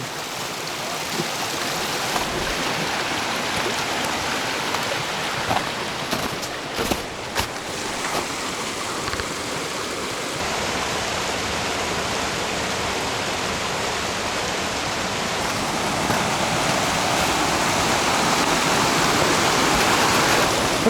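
A mountain river rushes past, a dense, steady broadband roar of flowing water heard close and loud throughout, with a few brief knocks near the start and no talking.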